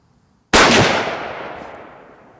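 A single loud, close shot from a T/C Encore rifle chambered in .308, rusted and corroded after a saltwater torture test, with a sharp crack and then a long reverberating decay.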